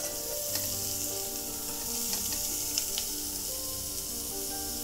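Chopped katla vegetable fries and is stirred in a pan with onion and masala, giving a steady close sizzle with faint scraping stir sounds and a few light taps, no voices.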